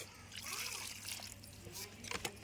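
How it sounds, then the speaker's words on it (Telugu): Water is poured outdoors for washing hands, a soft trickle and a few splashes over about two seconds, faint and close against quiet background noise. "వాటర్ పోయమ్మా. 2 చేతులు కడుక్కో, 2 చేతులు."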